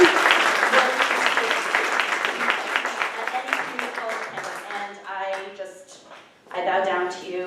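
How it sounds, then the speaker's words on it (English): Audience applause at a student and staff speakers' event, dense clapping that fades as a voice begins speaking over the tail end. "let's have a round of applause for that"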